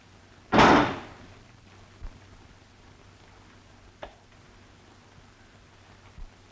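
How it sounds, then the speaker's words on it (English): A door slams shut, a single loud close bang near the start of a 1936 thriller. A few faint knocks and clicks follow as a match holding the latch drops out, all over a quiet hiss. "When you open the door and pull it closed, it slams and the match drops out."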